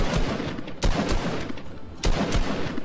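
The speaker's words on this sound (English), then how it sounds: "I think they also changed the sound effect that the assault rifle makes" Assault rifle fire in Fortnite: sharp, close shots in quick uneven volleys, with two especially strong reports standing out among the rattling bursts and almost no talking.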